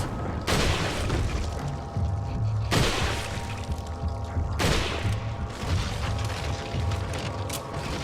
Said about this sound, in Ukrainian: А то ще все вибухає?